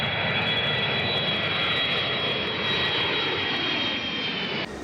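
Loud, steady roar of airliner jet engines at high power as the plane goes around after a landing gear problem, continuous and close with no break.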